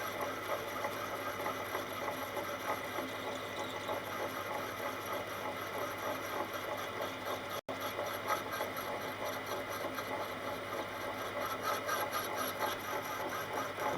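A lathe tool cuts a Lombardini diesel crankshaft, giving a steady, dense grinding scrape with a faint rhythmic chatter that runs unbroken at even loudness, apart from one tiny dropout.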